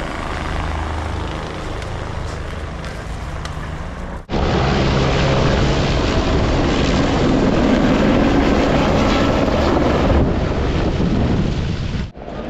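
A helicopter at the Kedarnath helipad roars loudly and steadily, its broad rotor and engine noise swelling abruptly partway through and staying close and continuous, mixed with wind buffeting.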